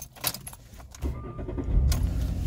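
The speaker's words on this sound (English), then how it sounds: "I'm able to start the car" Keys jangle near the ignition of a Jaguar X-Type, then its engine cranks and starts after key programming, settling into a low, close idle.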